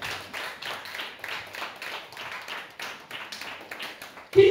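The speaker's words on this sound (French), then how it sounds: "Acclamez l'apôtre Ango, s'il vous plaît." A church congregation claps for an apostle, with quick rhythmic applause running throughout and a voice cutting in near the end.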